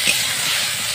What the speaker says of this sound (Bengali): ফুলকপিটাকে ভেজে নিচ্ছি।